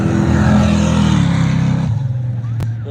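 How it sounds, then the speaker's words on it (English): A Chevrolet Nova drag car launches hard at a drag strip with its front wheels lifting, the engine a loud, steady roar that drops in pitch as it pulls away. A sharp click sounds near the end. "A little bit of wheel lift off that Nova."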